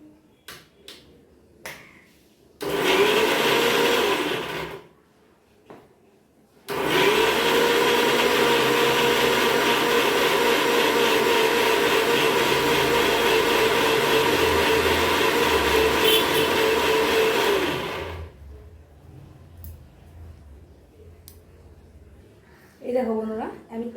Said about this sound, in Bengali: তো চলো আগে এটা মিক্সিতে দিয়ে নিই, পেস্টটা করে নিই